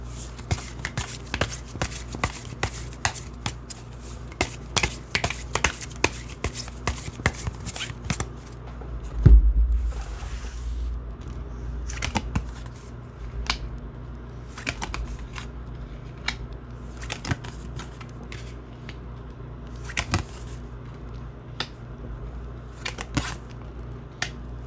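Tarot cards are shuffled and laid out by hand, a long run of crisp riffling snaps and light slaps in quick irregular bursts, close and clear, with a brief louder thump midway and no voices.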